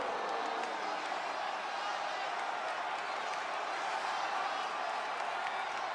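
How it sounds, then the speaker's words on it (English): A wrestling arena crowd roars in a steady, unbroken wall of cheering and noise that holds at the same loudness throughout. "The crowd anticipating a fantastic match here."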